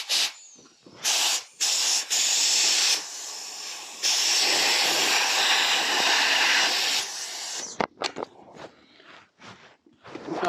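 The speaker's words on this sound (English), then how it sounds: "So we have got a bit of wind in both of them tyres now." Air hissing into the tyre of a 1980s Raleigh BMX bicycle during inflation, loud close bursts, a long steady hiss of several seconds followed by short choppy puffs.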